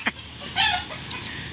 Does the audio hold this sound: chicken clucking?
yes